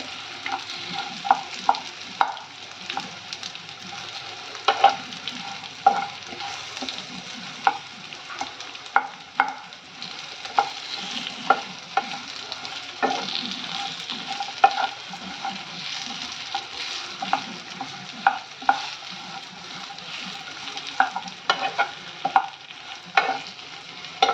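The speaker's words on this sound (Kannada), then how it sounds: "ಸ್ವಲ್ಪ ಬಿಸಿ ಮಾಡ್ಕೊತ ಇದ್ದೀನಿ ಡೇಟ್ಸ್ ಜಾಸ್ತಿ ಬಿಸಿ ಮಾಡ್ತಾ ಇಲ್ಲ ಸ್ವಲ್ಪ ಲೈಟಾಗಿ" Dates stirred in a pan over gentle heat for dry fruit laddu, a steady scraping and shuffling with soft sizzle and frequent spoon taps on the pan, close and alone with no talk.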